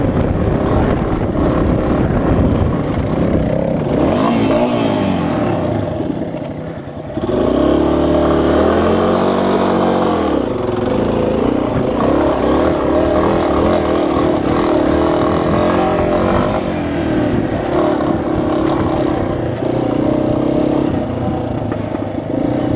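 A budget dual sport motorcycle's air-cooled, oil-cooled single overhead cam single-cylinder engine runs steadily and loud and close, with a brief dip around the middle before the steady running resumes.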